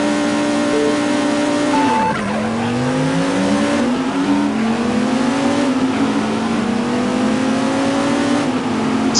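Race cars in the Viper Racing video game roar off the start line together, engines revving and rising through gear changes with tire squeal, a dense, loud pack of motors with no voices.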